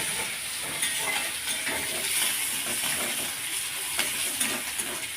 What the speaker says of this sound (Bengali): শাক ভাজাভাজি চলছে।